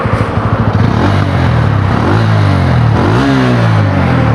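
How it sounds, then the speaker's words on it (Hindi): A 2026 Bajaj Pulsar N160 motorcycle with a 4-valve engine starts with a pulsing exhaust chatter, then revs loudly several times up close, the exhaust note rising and falling between blips. "बाइक को एक बार स्टार्ट करते हैं और आपको सुनाता हूँ इसका एग्जॉस्ट साउंड"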